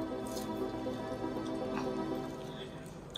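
Water from drip irrigation falls onto flower pots, with a close, steady series of soft wet drips over a low background hum.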